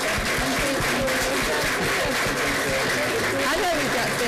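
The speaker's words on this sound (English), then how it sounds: "would you please stand? Let's give you a round of applause." Sustained applause from a school board meeting audience standing to honor supporters, dense steady clapping filling the room throughout with faint voices underneath.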